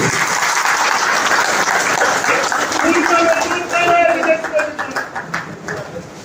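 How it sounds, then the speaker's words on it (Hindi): Dense, loud audience applause fills a BJP workers' meeting at Maheshwari Bhawan in Ratangarh during an election rally, sustained for several seconds before thinning into scattered claps, with voices mingling beneath. "जोरदार तालियों से स्वागत करें।"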